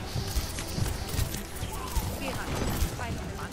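Horse hooves clip-clopping amid busy Overwatch gameplay at a Halloween event, the steady beats mixed with game effects while players talk over it.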